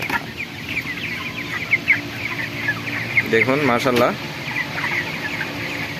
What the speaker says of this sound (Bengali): এটা একটা মোরগ দেখুন